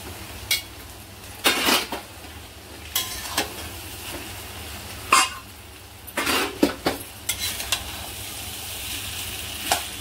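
Egg chicken fried rice stirred in a pan over high heat, a low sizzle beneath repeated metal spatula scrapes and clanks against the pan in irregular bursts, close and fairly loud.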